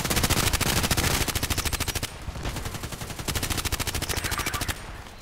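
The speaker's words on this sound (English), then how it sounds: "the Glock 18 has such a spread, such spreading here" A Glock 18 pistol fires full-auto in the shooter game Contract Wars, in fast rattling bursts with a brief pause between them, loud and close.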